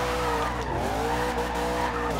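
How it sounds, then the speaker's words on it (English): A Bumblebee Camaro Z/28 with a V8 drifting in Forza Horizon 2, its muscle-car exhaust roaring steadily beneath a continuous screech of sliding tires, loud and close throughout. "You have American muscle V8 sound, exhaust sound to it."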